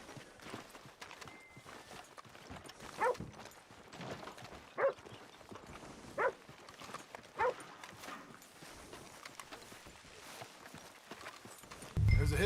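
A horse's hooves clip-clop at an unhurried walk in the Red Dead Redemption 2 video game, with a handful of distinct, fairly loud hoof strikes over a soft game ambience and no speech.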